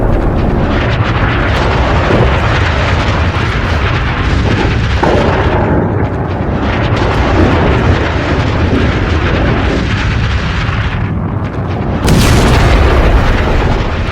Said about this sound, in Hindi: GBU-57 ये जो आप धमाका देख रहे हैं